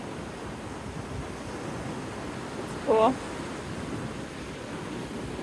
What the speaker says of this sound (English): I was just watching the waves and seeing how they crash against each other.